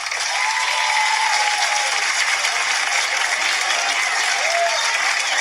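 Studio audience on a daytime talk show breaks into steady, full applause that holds at an even level for several seconds, with faint voices and whoops under it.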